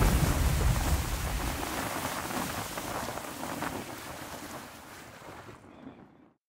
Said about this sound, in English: Someone film me going through this water crossing.